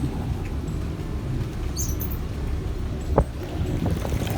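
Twin Yanmar 6LPA-STP marine diesel engines idle aboard a boat, a steady low rumbling drone with a brief knock partway through and no talking.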